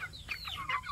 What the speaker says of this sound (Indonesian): Kita bela ayam.